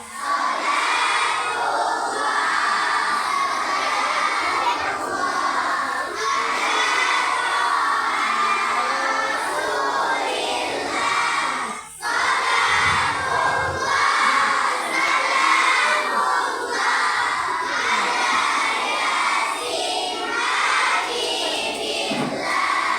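Schoolgirls at an elementary school religious assembly shout together in a loud, sustained group cry, with a short break partway and rising chants and cheering from the crowd of children.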